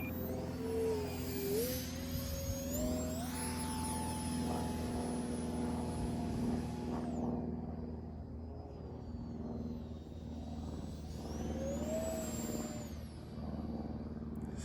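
Vertigo mini 50mm electric ducted-fan model aircraft flying overhead, a steady whining drone that rises and falls in pitch as it passes and returns, fairly loud throughout.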